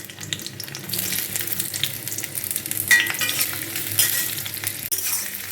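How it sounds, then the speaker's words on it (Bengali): Onions frying in a little oil in a wok for soya chilli give a continuous close hiss and sizzle, with louder crackling bursts about three and four seconds in. "কড়াইতে অল্প তেল দিয়ে এবার পেঁয়াজগুলো ছেড়ে দেব।"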